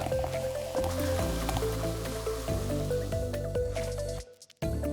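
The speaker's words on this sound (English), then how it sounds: "Now I'm going to pour an equal amount of carbonated water into the second cup." Carbonated water pours steadily into a cup for a dense stretch of fizzing, gurgling liquid noise, close and fairly loud, before the pour stops abruptly and resumes briefly at the end.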